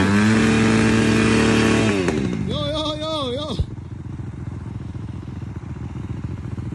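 A 250cc dirt bike engine revs loud and close with its back wheel stuck, a harsh buzzing roar that climbs in pitch, wavers, then cuts out abruptly, leaving quieter rumbling noise behind.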